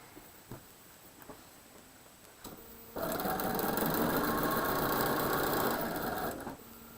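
A sewing machine stitches quilt blocks for a holiday pine tree and peppermint quilt: a few soft handling clicks, then a loud, close, steady motorized run of about three and a half seconds before it stops.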